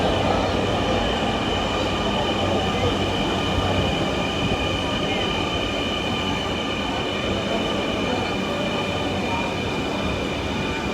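A metro train in a packed, crowded carriage runs with a steady, continuous rumble and a faint high squeal of wheels on rail, loud and close throughout with no break.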